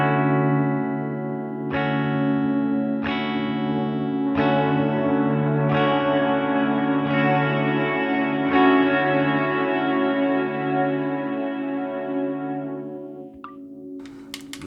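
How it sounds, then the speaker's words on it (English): An electric guitar runs through a Hologram Microcosm pedal, its hologram filter swept with an expression pedal. A sequence of plucked notes repeats roughly every second and a half, sustained and shimmering, before fading out. "I have the hologram filter set to this expression pedal"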